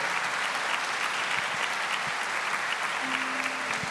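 A church audience, mostly women, applauds steadily for four seconds, a dense, loud, even wash of clapping with no voices on top.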